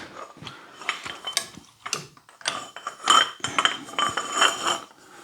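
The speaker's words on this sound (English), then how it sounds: "put my Johnson bar on here with a pipe and give it a good crack loose" Metallic clanks, scrapes and ratcheting clicks as a Johnson bar with a pipe extension is fitted and worked to crack loose the block heater on an International Harvester 444 diesel tractor, irregular close-up hits with no voices.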